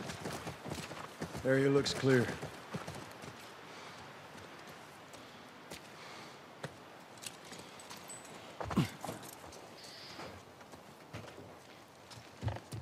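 A horse from The Last of Us clops briefly near a ranch, a short burst of hoofbeats early on, followed by quiet ambience and a spoken line.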